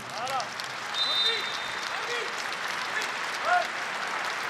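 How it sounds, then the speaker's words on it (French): A stadium crowd at a women's football semi-final between Lyon and Nantes applauds in tribute, a broad distant wash of clapping and crowd noise with a few faint whistle-like tones rising above it. "vous entendez les applaudissements en l'honneur de Fleury Dinalo"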